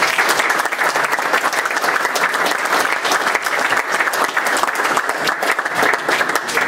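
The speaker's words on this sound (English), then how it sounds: "If we can give them a round of applause." Steady, dense applause fills a luncheon audience at a soccer alumni weekend at Lynn Stadium, close and sustained throughout with many hands clapping at once.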